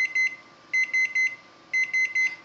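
A Samsung induction range with convection oven sounds its oven timer: three groups of three short, bright electronic beeps, clear and alone in a quiet kitchen.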